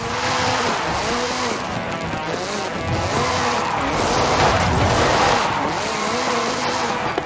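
Hoonigan Gymkhana 10 Ford Focus RS RX, a 2-litre turbocharged front-engined all-wheel-drive rally car, drifts in Forza Horizon 5 with a loud, continuous roaring engine that rises and falls through revs, overlaid with steady screeching tire squeal.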